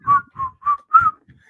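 A person whistles four short, clear, level notes in a steady rhythm, close and loud, followed by a faint trailing note.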